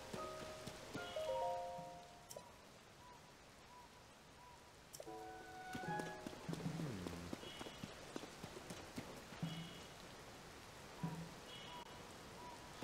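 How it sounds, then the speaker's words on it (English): Steady rain patters down in Zelda: Tears of the Kingdom, a dense, continuous hiss with scattered drops, mixed with game tones and chimes and footstep-like clops from the player's movement. "you still get hit by the rain even under the tent"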